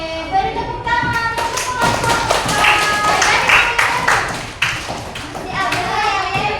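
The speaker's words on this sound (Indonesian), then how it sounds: "Oke, beri tepuk tangan." Children in a classroom clap together in a quick, loud burst of rhythmic hand claps and taps, with young voices chattering over them.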